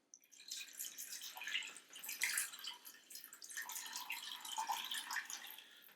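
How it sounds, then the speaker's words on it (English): Hot water poured from a kettle into a steel pan while cooking Hawaiian pork chops, a steady close splashing and bubbling pour lasting several seconds with no talk. "I'm going to add my hot water to my pan."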